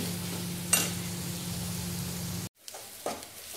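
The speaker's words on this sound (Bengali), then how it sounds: "পেঁয়াজটা আমরা ভালো করে ভেজে নেব" Chopped onions fry steadily in hot oil with a constant soft sizzle, a brief stir clatter early on, then a sudden drop to a quieter sizzle with a light scrape near the end.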